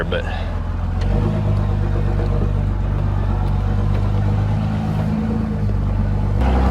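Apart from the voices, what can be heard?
truck in four-wheel-drive low driving slowly up a rough hill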